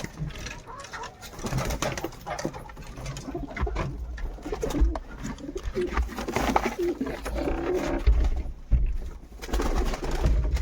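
Pigeons cooing inside a loft where some birds sit on eggs beside chicks, with steady close cooing under a person talking throughout.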